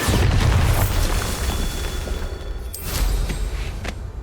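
A Bombarda spell explosion in Hogwarts Legacy on Nintendo Switch, a deep booming blast up front followed by rumbling debris and a couple of sharper bursts, loud and close with no talking.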